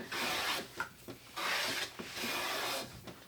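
A Lie Nielsen No 8 jointer plane takes near full-width shavings off sapele wood, each pass a close, raspy hiss in a repeating rhythm with short pauses between strokes.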